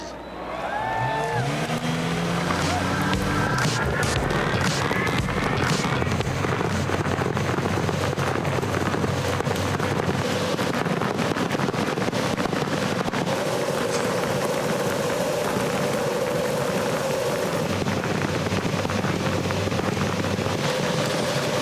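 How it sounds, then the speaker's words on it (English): IndyCar Honda race car engines fire up together before a 200-lap, 300-mile season finale at Homestead, a loud, continuous roar that fills the whole stretch, with wind buffeting the microphone. "Honda engines coming to life as 23 drivers now get set for 200 laps"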